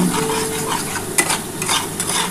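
Tangra fish sizzles and fries in oil and spices in a pan while being stirred, a continuous close crackle broken by occasional scraping strokes, with no voices.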